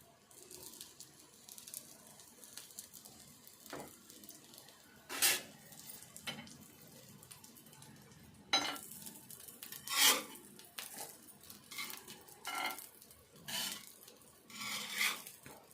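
A home stovetop pan where food is frying while a spoon scrapes and stirs it, producing intermittent metallic scrapes and rubbing strokes over a low sizzle, close and fairly quiet with no talking.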